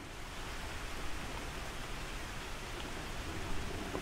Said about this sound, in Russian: Сейчас дождь переждем, поедем дальше.